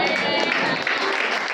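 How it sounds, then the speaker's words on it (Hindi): A church congregation claps together during a pastor's sermon, a dense, steady patter of hands filling the short moment at full volume. "ताली बजाए जिसने ये शब्द बोला"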